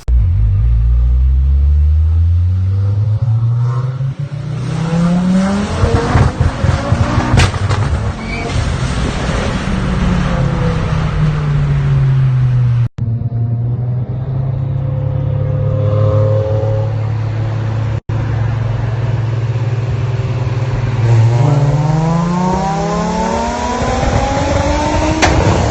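A Ford Focus ST engine revs hard through rising and falling gear sweeps, loud and rumbling, with a broad rush of road or wind noise throughout.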